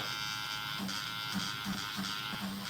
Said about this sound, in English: This is an electric eraser, Montmartre, that I use.